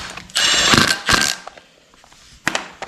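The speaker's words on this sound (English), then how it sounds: "I'll put 2 bolts in it" A hand ratchet tightens bolts on an AC compressor bracket for an LS engine swap, a close burst of fast clicking followed by a few separate clicks and a final short run.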